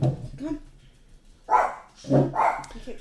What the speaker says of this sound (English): That was a loud bark.